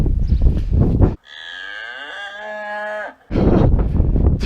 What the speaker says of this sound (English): It seemed like a good number of the cows had taken quite an interest in my mission.